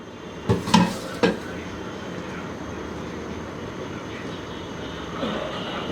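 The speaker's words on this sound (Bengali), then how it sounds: "নিয়ে এসে বাগারটা এর মধ্যে দিয়ে দিই।" Hot bagar tempering poured into a sweet potato and mango dish, giving a few sharp sizzling bursts early on, then a steady low frying hiss with faint stirring as the pan settles.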